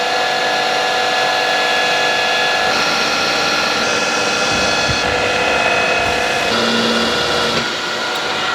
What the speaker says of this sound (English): I'm gonna center drill the corners and then follow them up with an 8mm drill.